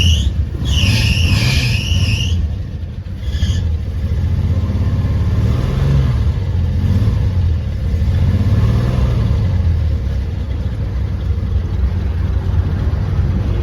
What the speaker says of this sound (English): Well, that's truly a cold start.